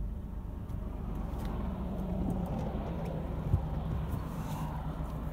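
A 2000 Honda Insight with a 5-speed manual idles steadily, a low, even engine hum with light wind noise and a small bump partway through, no talking.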